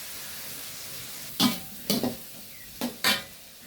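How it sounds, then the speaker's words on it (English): Carrots stir-fried in a pan with prawns and vegetables give a soft, steady sizzle, broken by four sharp scraping clinks of a utensil against the pan. "Now I'm going to add my carrots first."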